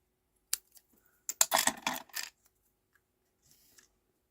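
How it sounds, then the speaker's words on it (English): Scissors snip green paper leaves for a handmade card: a few quick, close, sharp cuts clustered together, then a faint rustle, with quiet pauses between. "Give these a little snip."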